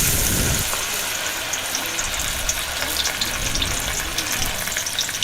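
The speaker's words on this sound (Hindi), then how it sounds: "फ़िश को 3 मिनट पकने देना है।" Fish pieces fry in a kadai for a Lahori-style fish fry, giving a steady, dense sizzle and hiss that stays close and constant throughout, with no one speaking.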